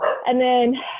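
A dog gives a brief, sharp bark, close and loud, heard alongside a person talking.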